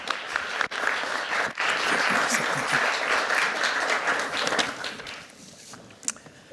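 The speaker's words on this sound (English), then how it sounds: "I'd like to give a warm round of applause for Michael Maltzan." An architecture lecture audience gives a warm, sustained round of applause welcoming architect Michael Maltzan, a full crowd clapping loudly for several seconds before thinning out toward the end.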